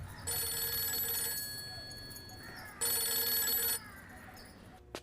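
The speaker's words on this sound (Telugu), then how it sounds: "ఏమండి ఫోన్" A telephone rings in a dramatic film scene: two bright, electronic ringing bursts, each about a second long, separated by a quieter stretch with faint background.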